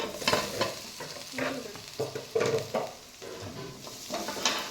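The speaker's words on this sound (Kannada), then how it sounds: "ಈರುಳ್ಳಿ ಚೆನ್ನಾಗೆ ಫ್ರೈ ಆಗಿದೆ ಬಣ್ಣನೂ ಚೇಂಜ್ ಆಗಿದೆ" Onions being fried and stirred in a pan for a prawn curry, with a steady soft sizzle broken by repeated scraping stir strokes, close and moderately loud, no talking.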